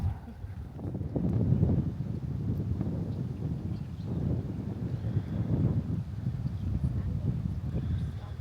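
Wind blows across a mountain campsite with a low, steady rumble and buffeting gusts against the microphone, swelling and easing throughout.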